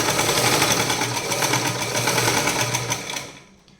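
A sewing machine stitches a bias piece onto a neckline, its needle mechanism chattering in a fast, even rhythm up close before winding down and stopping at the end.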